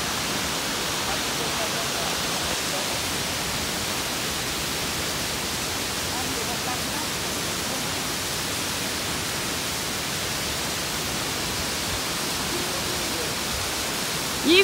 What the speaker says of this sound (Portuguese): Olha o barulho das águas.